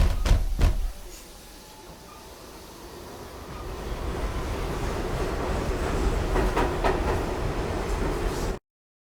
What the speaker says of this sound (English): And we are now on the subway train.